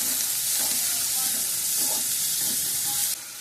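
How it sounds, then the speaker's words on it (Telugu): Onions and green chillies fry in a pan for a broad bean and tomato curry, giving a steady, close sizzle with faint stirring scrapes that drops away abruptly near the end. "పచ్చిమిరకాయలు కూడా కొద్దిగా ఏగనివ్వాలండి, వేగితే మనకి మంచి కూర కూడా మంచి టేస్ట్ వస్తుంది"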